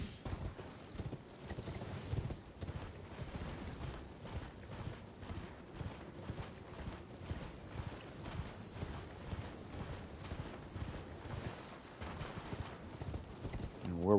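Galloping horse hooves from the video game Elden Ring keep up a steady, rhythmic clip-clop for the whole stretch, moderately loud and unbroken, with no talking over them.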